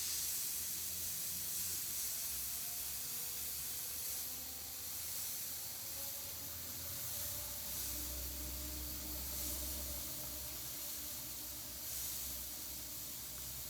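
An air compressor running with an airbrush spraying paint onto a hoodie, giving a continuous close hiss over a low mechanical hum with no talk.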